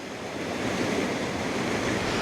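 Steady rushing water roar, broad and continuous, with a touch of wind noise on the microphone and no voices.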